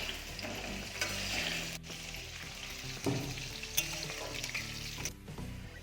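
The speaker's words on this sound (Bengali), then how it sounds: "একটু লবণ দিয়ে ভালো করে ভেজে নেব।" Potato pieces frying in oil with a little salt for a chicken curry, a soft continuous sizzle with stirring scrapes and occasional clinks, fairly quiet and close, without talk.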